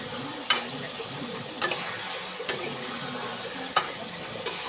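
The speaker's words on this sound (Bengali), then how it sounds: "আলু আর ডিম সেদ্ধটাকে ভালো করে কষিয়ে নিতে হবে মশলার সাথে" Potatoes and boiled eggs are stir-fried with spices in a pan, a low steady sizzle broken by five sharp spatula clacks at irregular intervals, close up with no talk.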